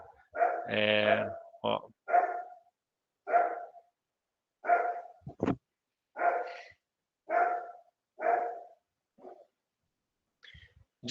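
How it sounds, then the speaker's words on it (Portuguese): Several dogs bark at people passing in the street, a series of sharp, evenly spaced barks alone, with a brief spoken word near the start. "eles estão latindo pro pessoal na rua"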